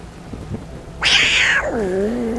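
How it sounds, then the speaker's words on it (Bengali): A cartoon sound effect of a fat cat on a wall in a Bengali horror animation: a loud, drawn-out meow that rises sharply, then slides down in pitch. It follows a quiet, murmuring background. "সামনের পাঁচিলের ওপর একটা মোটা সোটা বিড়াল"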